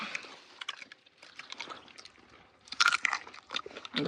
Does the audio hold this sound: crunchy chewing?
yes